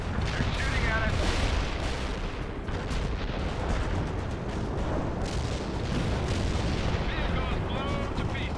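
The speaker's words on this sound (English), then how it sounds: "Delivering a range of shells at target coordinates." Artillery shells firing in the video game World in Conflict during a Soviet assault mission, a dense continuous barrage of booming blasts and rumble, loud and close, with game voices talking over it.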